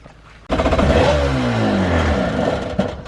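A Kawasaki SC Sport Cruiser engine kicks in abruptly and revs loud and close with the throttle held, a sustained roar whose pitch climbs and wavers for nearly three seconds.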